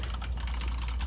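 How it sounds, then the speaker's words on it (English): Brisk typing on a computer keyboard connected to a server, quick close clicking keystrokes in an even stream over a low steady hum. "I specifically have this keyboard because I can say right now it's connected to the server, so I can type whatever I want"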